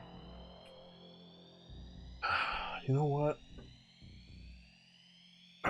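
An alarm sound effect rings out during a Kids on Bikes tabletop RPG session, a short loud warbling burst around the middle, with people talking before and after it.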